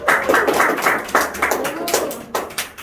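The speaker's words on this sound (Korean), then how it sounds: "우리 친구들 박수 쳐주세요" Students at Wooshin High School clap together during a classroom session, a close, uneven patter of handclaps rising and falling in short bursts.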